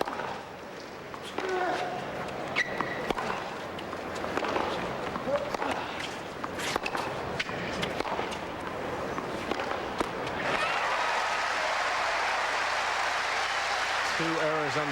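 Spectators at the 2003 US Open tennis semifinal between Ferrero and Agassi break into loud, sustained cheering and applause that swells and holds steady near the end, with a commentator talking over the opening stretch.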